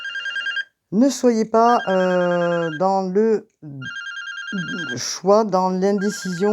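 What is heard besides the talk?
telephone ringing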